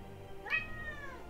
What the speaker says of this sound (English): as you can all hear, my cat has come and to remind me that it's food time